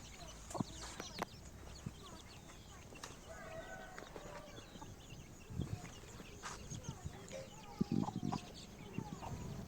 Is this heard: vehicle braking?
no